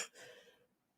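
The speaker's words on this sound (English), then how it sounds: "I'm glad I did cough" A single soft, breathy cough close to the listener, followed by fading breath and a brief sharp noise at the very end.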